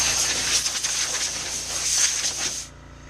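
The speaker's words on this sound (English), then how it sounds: "Compressor will shut off in a minute." An air compressor runs in a workshop during servicing of a Husqvarna 350 chainsaw, giving a steady, loud hiss with a high whine before cutting off abruptly near the end, leaving near-silence.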